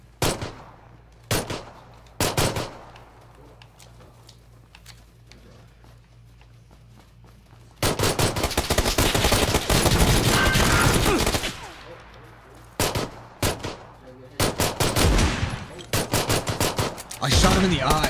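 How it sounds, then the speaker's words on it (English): Gunfire in PUBG on Xbox: a few sharp isolated shots at first, then a long, dense stretch of rapid automatic fire, then more loud bursts, all close and forceful. "I shot him in the eye."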